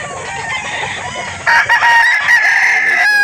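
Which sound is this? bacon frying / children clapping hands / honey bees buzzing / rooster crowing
rooster crowing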